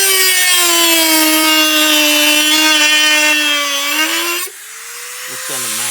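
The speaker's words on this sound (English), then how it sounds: "And we're just gonna grind." Electric grinder grinding metal on Mustang fuel tank pylons, a loud, steady high-pitched whine held for several seconds before the motor pitch shifts and spins down.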